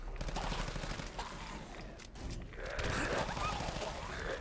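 Rapid automatic pistol fire in modded Fallout 4 during a fight with a glowing one, dense bursts of shots at low level, with a brief lull midway before the firing picks up again.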